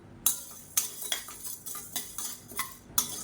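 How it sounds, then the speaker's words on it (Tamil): A metal spoon stirs chana dal as it dry roasts in a pan for idli podi, with sharp scraping clinks every half second or so against the pan, close and fairly quiet, with no talking. "இது நல்லா பொன்னிறமாக வறுத்துக்கலாம்."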